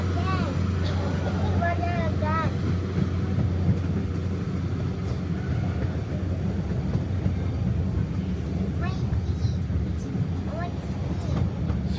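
A cog railway train climbing Pikes Peak rumbles steadily with a low drone and rhythmic rail noise throughout, while a voice talks over it.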